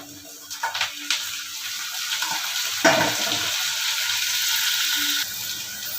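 Chopped tomatoes tipped into a pan of frying onions and curry leaves for a cauliflower curry, a loud steady sizzle that surges as they land, with some stirring and scraping up close.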